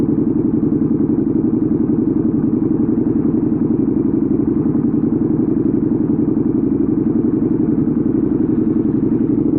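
A 2014 KTM 1290 Super Duke R, a first-generation big V-twin naked bike, idles close by with a loud, steady, rumbling engine note. The sound holds even and unbroken throughout, with no talk over it.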